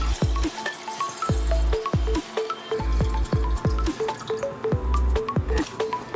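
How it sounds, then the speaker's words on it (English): Sweet tea kombucha being poured into a jar gives a quick run of wet glugs, drips and splashes, close and clear, with no talking. "you pour it into your jar"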